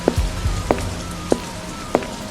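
Rain falls steadily as a continuous wash of noise, with a few sharp drips or knocks landing at intervals, and no voices present.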